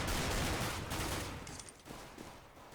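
Dual Berettas pistols firing in CS:GO during a competitive match, a quick burst of loud overlapping shots at the start that fades into a quieter tail with a few faint clicks.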